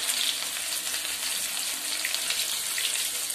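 Potatoes fry in hot oil in a wok, giving a steady, close, bright sizzle that stays even and uninterrupted throughout.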